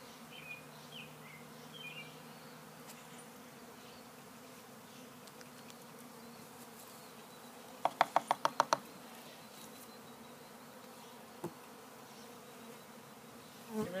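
Honey bees buzzing around a five-frame nuc hive during installation, a steady low outdoor drone with a short cluster of sharp taps midway and a brief knock later.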